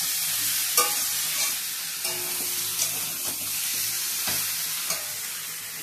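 A steady, close sizzle of fish frying in a pan, punctuated every second or so by soft utensil clicks and scrapes, with no voices.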